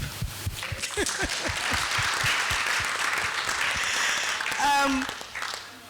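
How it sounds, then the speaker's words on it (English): Audience applause at a project launch event, a burst of clapping early on fading under a speaker's voice that continues through. "Let's clap."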